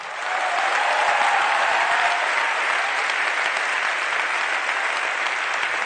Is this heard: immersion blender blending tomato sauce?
no